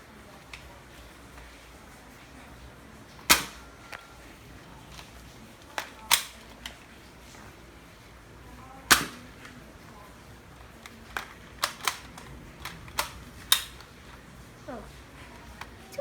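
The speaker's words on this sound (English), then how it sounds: "with the big one and shoot that minion pillow" A Nerf shotgun and pistol fire foam darts at a pillow indoors, giving a scatter of sharp, quiet clicks and pops spaced irregularly over a low background, with soft voices in between.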